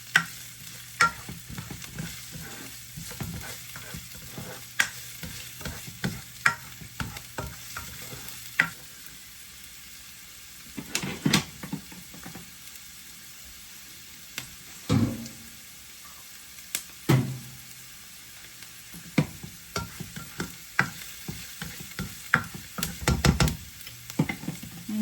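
Onion and garlic sautéing together in a pan, a low steady sizzle broken by frequent scrapes, knocks and taps of a spatula stirring against the pan, close and uneven, with no talking.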